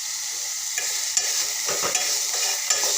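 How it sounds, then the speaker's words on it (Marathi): Amaranth greens stir-fry in a pan with a constant close sizzle, broken by several scraping stirs of the spatula through the leaves. "असं भाजीला अधूनमधून छान मस्त असं परतत राहायचं"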